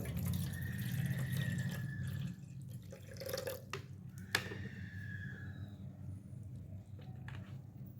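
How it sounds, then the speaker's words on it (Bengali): Water poured into a vessel at home: a gurgling pour for about two seconds, then trickles and drips, quiet and close, with no voices. "জল ঢেলে দিলাম।"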